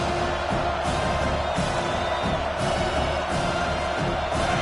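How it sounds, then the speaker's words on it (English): Home stadium crowd at a football game roaring and cheering loudly, a steady dense wall of noise with faint whoops rising through it, with no pauses across the stretch. "how nice is it to have the home crowd going absolutely bananas"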